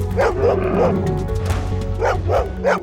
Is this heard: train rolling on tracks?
no